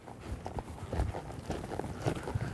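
A horse's hooves lope across an arena dirt surface during flying lead change training, a close, rhythmic clip-clop of repeated footfalls with steady movement throughout.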